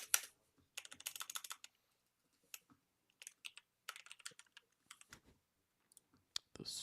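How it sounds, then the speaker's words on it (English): Clattering keystrokes from a computer keyboard, typed in quick bursts with short silent pauses between them, close and fairly quiet with no talking. "that's Eric's keyboard"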